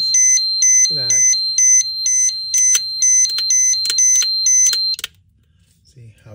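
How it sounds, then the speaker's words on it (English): An XGuard Plus V3 alarm unit sounds its alarm after its supply drops from 12 volts: a loud, near, rapid train of shrill electronic beeps for about five seconds, then it cuts off, with brief bits of a voice around it. "now we have the alarm because I went from 12 volts to that"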